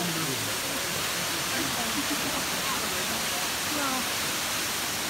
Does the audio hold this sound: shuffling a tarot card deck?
no